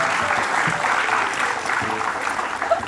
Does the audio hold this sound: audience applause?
yes